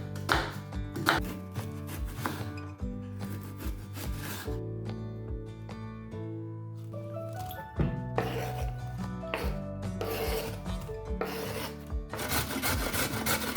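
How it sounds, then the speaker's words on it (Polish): Repeated rasping strokes of a carrot on a grater, rhythmic scraping bursts with brief pauses, close and fairly loud over soft background music. "Ścieramy marchewkę na tarce"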